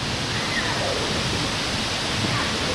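Mantayupan Waterfall in the Philippines roars as a loud, steady rush of falling water, dense and unbroken throughout, heard up close.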